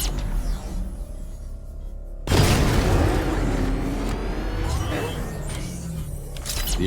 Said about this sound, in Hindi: The Arkham Knight's vehicle swerved and crashed up ahead.